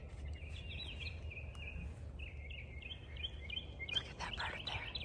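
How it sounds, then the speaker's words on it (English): Small bird calls outdoors in nature: a series of faint, high chirps and short trills repeating over a low steady rumble of wind or distant traffic, with a brief rustle near the end. "Look at that bird there."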